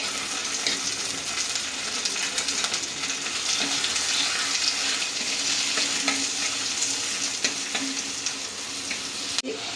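Onion, ginger, green chili and curry leaves fry in a pan with mustard seeds and fenugreek. A close, continuous sizzle and stirring hiss carries on alone for several seconds, ending with a faint click.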